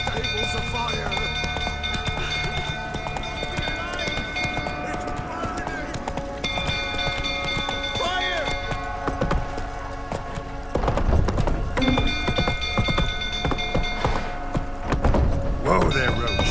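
Roach the horse galloping in The Witcher 3, heard as steady rhythmic hoofbeats with clip-clop and harness jangle, mixed with game music and voices, growing louder partway through.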